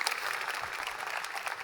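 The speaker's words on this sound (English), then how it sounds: "So extra round of applause for our keynote speaker" An audience at a JuliaCon keynote applauds a speaker, giving a dense, continuous round of clapping that holds steady and fairly loud, with no talk over it.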